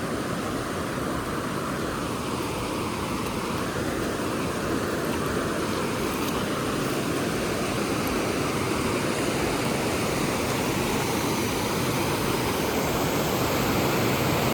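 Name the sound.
water flowing at Vadattupara waterfall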